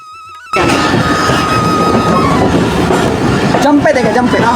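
A local train in motion in Pakistan, heard from inside a carriage: after a quiet tonal opening, a loud, steady rumble with rhythmic wheel clatter and faint squeals continues, with voices mixed in.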